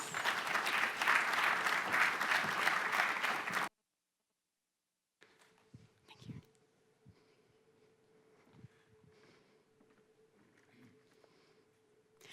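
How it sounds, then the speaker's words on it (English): An audience applauds for Laila Ibrahim, Chief Business Officer of Coursera, at a launch event: dense, loud clapping for several seconds, then a short silence followed by faint room noise and scattered soft sounds. "Please give her a round of applause"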